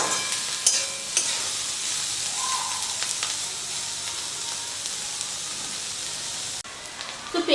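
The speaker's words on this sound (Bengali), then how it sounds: "তো পেঁয়াজটা দিয়ে খুব ভালো করে ভেজে নেব" A large chopped onion fries in a pan for stuffed karela, giving a continuous bright sizzle with occasional stirring scrapes, steady and close with no talk.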